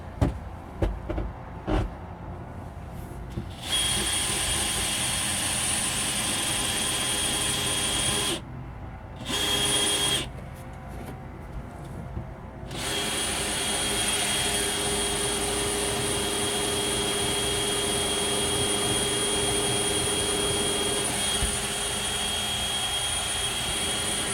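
A power drill driving screws into pontoon boat seats whirs steadily for long stretches, stopping briefly a couple of times before starting up again, loud and close by.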